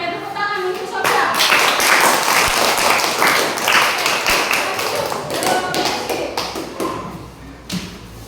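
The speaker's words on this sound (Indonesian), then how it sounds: "Oke, tepuk tangan untuk Sofia." Classroom applause for a student named Sofia, a dense burst of many hands clapping that starts abruptly and runs steadily for several seconds, close and loud, with scattered individual claps standing out near the end.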